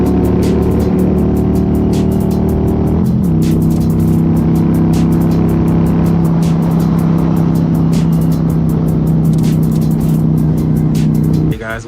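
A motorcycle blowing past a pack of bikers on the road, with a steady loud engine drone and wind rush throughout, a shift in pitch partway through as it passes, and other engines close by.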